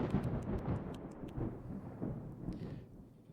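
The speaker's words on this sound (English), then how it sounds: "Plague 7, Storm of Hail." A hailstorm with thunder in the video game Exodus Vigil: a heavy rumbling roll of thunder with a dense rushing patter of rain and hail, fading slightly toward the end.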